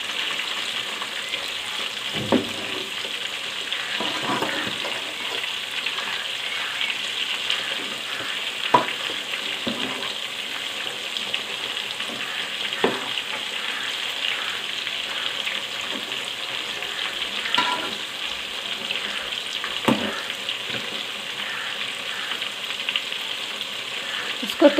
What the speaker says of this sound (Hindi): हमारे चिकन को पकते हुए 2 मिनट हो गए हैं।